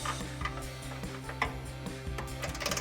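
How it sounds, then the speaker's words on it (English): A hand ratchet working loose a nut on the front bumper of a 2013-2018 RAM 1500 pickup, giving a close, steady run of quick metallic clicks in an even rhythm with no talking. "We're gonna grab a ratchet for this one and remove it."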